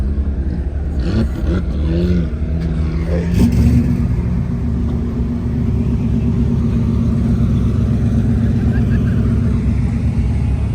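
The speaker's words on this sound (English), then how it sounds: "Uh-oh, the Mercedes is leaving." A Mercedes pulls away from a parking-lot car show, its engine rumbling and rising as it drives off, while someone talks over it nearby.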